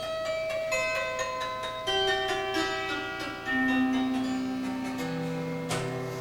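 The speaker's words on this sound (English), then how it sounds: "If you push one of these buttons and strum the strings, the only strings that'll play are the ones that are in the chord that you want." An autoharp-style chord-button stringed instrument, slightly out of tune, strummed slowly in sustained ringing chords, with soft clicks from damped strings and a new chord entering every second or so, played alone with no talking.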